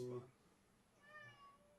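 A cat lets out a short meow at the very start, then a faint, drawn-out higher mew follows a second later in an otherwise quiet indoor space.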